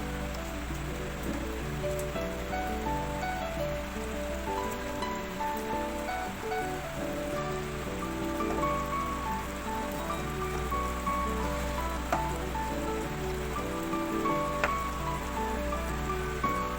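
Pabda fish sizzling in a pan of mustard-poppy sauce, a steady close crackle and spatter like rain, running evenly throughout with no talk.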